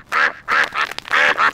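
Cartoon ducks at a pond quack four times in quick succession, loud and close, each call a short nasal burst with brief gaps between.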